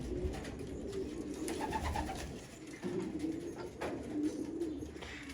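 Pigeons coo softly in low, repeated murmuring calls, steady and close, with faint background noise and no talking.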